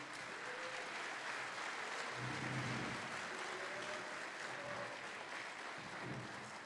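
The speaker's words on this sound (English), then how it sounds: "Give these guys a hand clap." Faint, steady applause from an audience at a debate championship, greeting the affirmative team; the clapping sounds distant and thin throughout.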